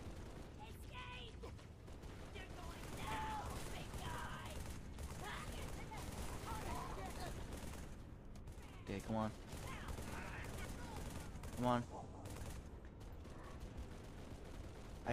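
Halo 3 gunfire crackles as distant, rattling bursts under a voice, with two sharper, louder volleys standing out near the end.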